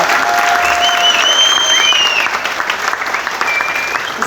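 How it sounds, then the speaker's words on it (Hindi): A seminar audience applauds in a steady, continuous wash of many hands clapping, with a few faint whistle-like tones rising over it. "आपकी तालियां बताइए कि कैसा था"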